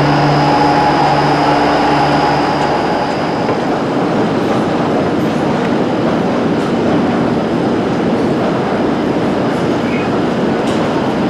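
A train at Birmingham Moor Street rumbles steadily throughout, with broadband rolling noise and faint rail clatter; a low tonal hum fades in the first few seconds.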